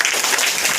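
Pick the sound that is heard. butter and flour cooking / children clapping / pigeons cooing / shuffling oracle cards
children clapping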